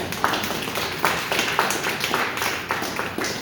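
Hand claps at a Kwanzaa ceremony as a candle is lit, about six or seven sharp claps spaced roughly half a second apart over a steady room background, fairly close.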